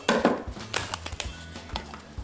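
Leaves being cut to length with sharp snips for a decorative interior arrangement, a series of crisp, irregular cutting clicks and light handling noises, close and clear with no talking.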